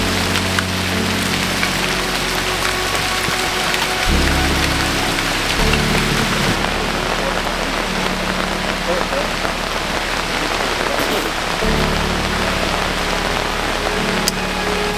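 Heavy rain falls steadily during a kayak expedition around Pohnpei Island, a loud, continuous dense hiss of drops on surfaces, with a low rumbling drone underneath that shifts in level now and then.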